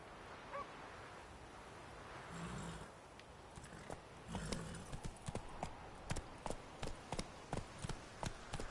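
Geralt's horse Roach gallops in The Witcher 3, hooves striking in a steady, quickening clip-clop that grows louder and more regular toward the end over a low ambient background.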